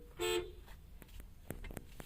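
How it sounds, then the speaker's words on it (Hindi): A single short horn honk from a 2010 Toyota Corolla Altis D4D-G sounds near the start, loud and close, followed by a few faint clicks and knocks. "ऐसा कुछ इसका हॉर्न है, मैं सुनाता हूँ"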